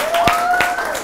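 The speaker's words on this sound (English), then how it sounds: "round of applause, QPR's Rio Ferdinand." Audience applause at a live Q&A event with footballer Rio Ferdinand: a brief, steady wash of crowd clapping with a thin sustained tone running through it.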